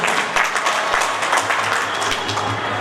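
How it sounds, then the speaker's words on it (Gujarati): A temple audience at a Bhagwat Katha gathering at a Swaminarayan mandir claps together in a sustained, dense burst, steady and fairly loud throughout. "એટલે તાળીઓ પાડો."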